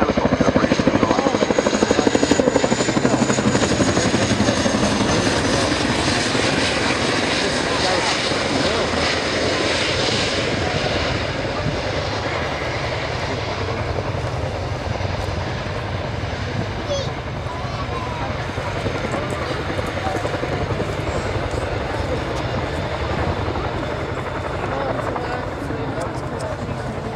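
Chinook tandem-rotor helicopter at an air display performing a two-wheeled running landing and rearward two-wheel taxi, its loud, continuous rotor and turbine roar dominating throughout and easing slightly midway, with a commentator speaking over the top.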